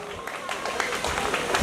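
A congregation at an evangelism campaign applauding, a dense steady wash of clapping and crowd noise mixed with voices, holding at an even level throughout.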